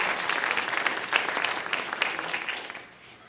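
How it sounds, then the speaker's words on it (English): A summit audience gives RCI staff members a brisk round of applause, dense and lively at first, then thinning and fading toward the end. "I'm going to ask them to stand up so we can give them a more formal round of applause."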